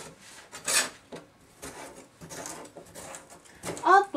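A knife thinly slices a vegetable core on a cutting board, giving several short, quiet rasping cuts spread across a few seconds.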